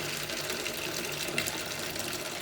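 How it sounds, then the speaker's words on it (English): Hot water running from a kitchen tap, a soft, steady stream hissing into a sink at low volume without pause. "I run the tap on the hot side till the hot water comes out"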